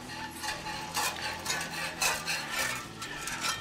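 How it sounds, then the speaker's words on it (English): Strong black coffee poured into a hot frying pan to deglaze it for red eye gravy after cooking country ham, giving a steady, close hiss and sizzle with scraping and stirring against the pan. "we'll deglaze the pan here"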